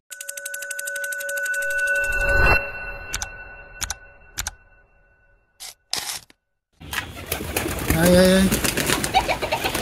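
Pigeons in a small backyard loft give soft cooing calls amid other bird sounds, with a steady tonal beeping early on, a few sharp clicks and a brief silence, then busier noisy activity.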